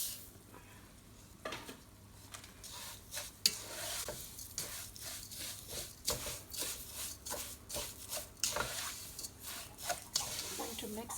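Sugar and salt stirred together in a pan over a lowered flame as the sugar caramelizes for Parsi sagan ni sev, with repeated scraping strokes and a soft sizzle throughout, close and fairly quiet.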